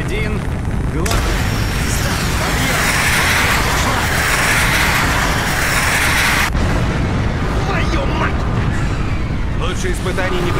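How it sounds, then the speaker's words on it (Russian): A long, loud rumbling roar of an explosion in Call of Duty: Black Ops, with a rushing blast that suddenly cuts and continues as dense crackling rumble. "Ну же, Мейсон, взрывай"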